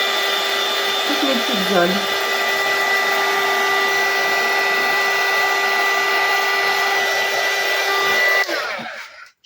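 A heat gun blows steadily to dry areas of a handmade paper card, a loud continuous whooshing hum with a faint spoken remark partway through, then cuts off and winds down at the end.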